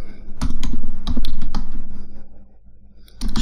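Rapid typing on a computer keyboard while entering VBA macro code in Excel, a close, loud run of key clicks with a brief pause near the end before the tapping resumes.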